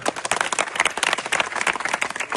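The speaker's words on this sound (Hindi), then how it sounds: "इसके लिए बहुत जोरदार तालियां" A small group claps loudly for a boy named Nitin Saini, a dense steady patter of many hands close by for a couple of seconds with no one speaking.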